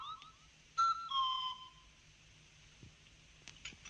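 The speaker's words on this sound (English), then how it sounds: "It was on the swanny whistle." A swanee whistle from the Clangers slides through a few short, soft pitch glides, with one brighter sweeping tone near the start before fading to quiet.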